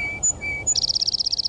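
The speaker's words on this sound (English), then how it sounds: "So here's a song sparrow." A recorded song sparrow sings: two high clear whistled notes separated by lower tones, then a fast, bright trill of evenly spaced chirps, alone and clean.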